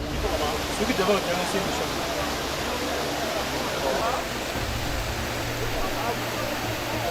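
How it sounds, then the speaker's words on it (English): Flood water rushes through Port Louis, Mauritius during Cyclone Belal flash flooding, a steady dense roar that runs throughout beneath a person talking. "Torrential downpours from Cyclone Belal have unleashed severe flash flooding in the Mauritius capital, Port Louis"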